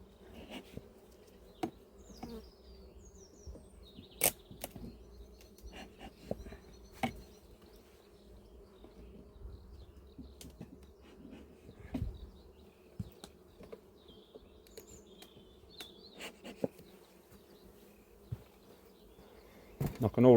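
Honey bees buzz around an opened hive in an apiary while a split is being made, a steady low insect hum with scattered clicks and knocks from handling frames, fairly faint throughout.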